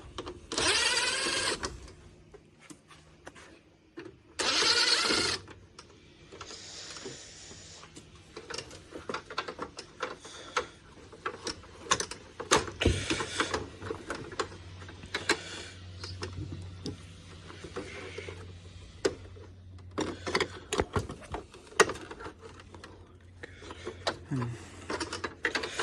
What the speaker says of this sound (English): Unscrewing stuff.